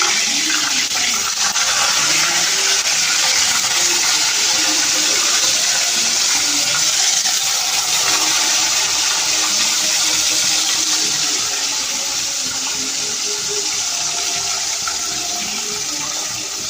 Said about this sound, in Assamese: তেল গৰম হৈছে। মাছ ফ্ৰাই কৰিছোঁ।